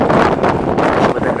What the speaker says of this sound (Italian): oggi c'è un po' di vento, vabbè, spero si senta bene il video, perché con il vento si sente.